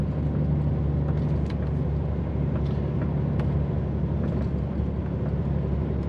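An HGV truck engine labouring uphill in low gear, a loud, steady low droning rumble that holds constant throughout, close up and with no talk over it.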